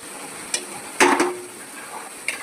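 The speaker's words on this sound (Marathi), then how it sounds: "आता आपल्याला त्यामध्ये कांदा टाकून घ्यायचा आहे" Onion dropped into hot oil already holding mustard seeds and cumin, a soft background sizzle broken by a few sharp utensil knocks and a louder burst of frying as the pieces go in, no voices.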